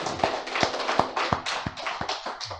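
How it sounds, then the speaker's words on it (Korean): A congregation applauding during a church service, a short burst of separate, fairly sparse hand claps in an uneven rhythm with no voices over them. "우리 주님 앞에 크신 영광의 박수 한번 올려드리시겠습니다."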